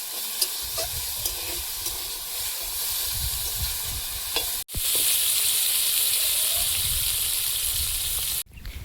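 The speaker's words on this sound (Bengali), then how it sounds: "আলুগুলো ভেজে নিচ্ছি" Sliced potatoes fry in a pan for a Bengali small-fish curry, giving a steady close sizzle with stirring scrapes throughout and a brief dip in the middle, loud and alone without voices.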